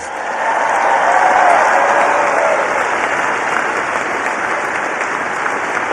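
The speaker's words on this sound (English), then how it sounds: "let's give a big round of applause to your incredible parents, grandparents, and family members." A large crowd at a University of Alabama commencement ceremony bursts into loud, sustained applause with some cheering, swelling early and then holding steady throughout.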